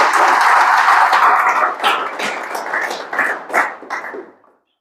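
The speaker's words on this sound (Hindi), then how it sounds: "तो जोरदार तालियां हो जाएं आप लोगों के लिए" Audience clapping in a room after a talk on magnetic therapy kits: dense, loud applause that thins into scattered individual claps and fades out to silence near the end.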